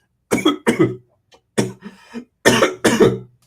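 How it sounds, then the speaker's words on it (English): A series of harsh coughs in quick bursts, five or six loud hacks in two clusters, close up with no talking. "I'm not coughing because of the air quality"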